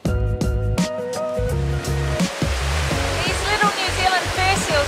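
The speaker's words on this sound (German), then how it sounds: "Schöner O-Ton, man versteht kaum ein Wort, weil es halt ein ultralauten Wasserfall ist." A very loud waterfall roars steadily and close, a dense unbroken rush of water that drowns out muffled voices talking beneath it.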